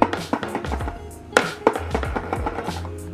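Skateboard with good pop being popped: sharp, loud wooden snaps and clacks, several distinct hits with a couple of strong pops mid-way, close up and with no talking.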